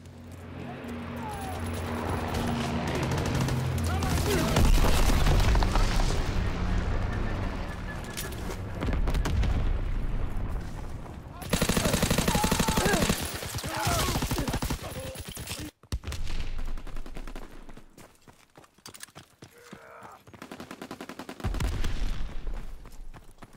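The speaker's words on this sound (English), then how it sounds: "Taking heavy fire." Heavy gunfire in a WW2 shooter video game, a dense fusillade of rapid shots and bursts that swells loud and chaotic, drops away abruptly, then returns in sparser, scattered volleys.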